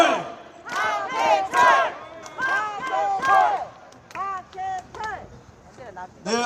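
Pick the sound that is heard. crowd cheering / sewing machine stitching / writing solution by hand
crowd cheering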